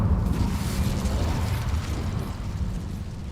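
Fire spells cast in a Hogwarts game, heard as a dense, continuous rumbling roar of blasts and crackling bursts with no distinct gaps, steady and loud throughout.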